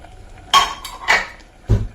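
A spoon knocks against a pot while cooked tapioca is mixed with crushed shallots, garlic and chillies, giving three short, sharp metallic clanks spaced apart over a quiet background.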